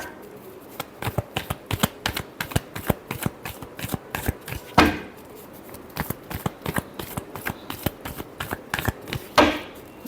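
Tarot cards are shuffled by hand in quick, repeated riffling bursts, with two sharper card slaps along the way. The sound is close and crisp, and no voices are heard.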